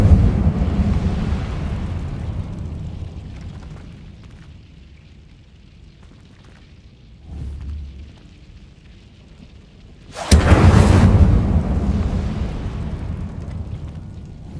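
The Incendio fire spell in Hogwarts Legacy erupts with a sudden loud whooshing burst after a rumbling lull, roaring close and full before tailing into a crackling fiery rush.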